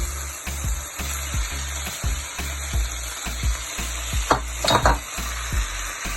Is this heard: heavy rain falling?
no